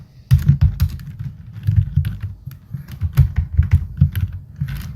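Close, clattering keystrokes on a computer keyboard as CSS code is typed, quick irregular bursts of clicks with short pauses between words, no voices.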